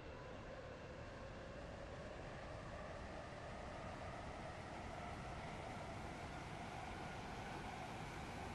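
A Stepford Connect train runs steadily in the Roblox video game, a constant loud rumbling roar with a low hum and no pauses, heard from inside the carriage.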